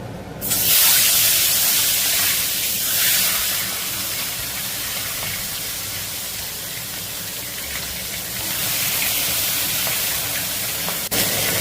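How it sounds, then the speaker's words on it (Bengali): Katla fish heads fry in hot mustard oil in a kadai, giving a loud, steady spitting sizzle and hiss that runs close and continuous throughout, with no talking. "তেল গরম হয়ে গেছে মাছের মাথাগুলো ভেজে নেব"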